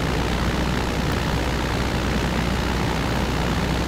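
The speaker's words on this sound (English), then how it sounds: "the R22 Robinson helicopter in this sim is very realistic indeed" A Robinson R22 helicopter in the Aerofly FS2 flight simulator drones with a loud, steady engine and rotor roar, unbroken and close throughout.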